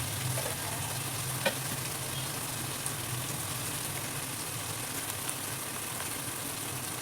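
Onions frying until golden in a pan for coconut chicken biryani, giving a continuous close sizzle with light stirring and a couple of faint spoon clicks, no voices over it.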